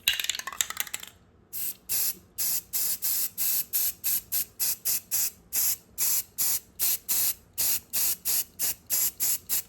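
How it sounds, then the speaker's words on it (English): Rapid short bursts of matte black aerosol spray paint hiss in a steady rhythm, close to the microphone, after a brief rattle at the start. "I'm going to take some matte black paint, because I just want to spray paint them"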